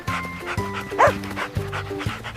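A dog panting and giving short, soft yips in a repeating rhythm, close and clear.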